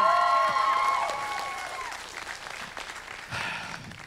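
An audience at a convention Q&A breaks into loud applause that fades over a few seconds, with scattered claps and crowd noise continuing quietly afterward.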